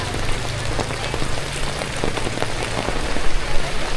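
Steady rain pours down in Vietnam, a dense, continuous hiss of drops hitting surfaces nearby, loud and unbroken throughout.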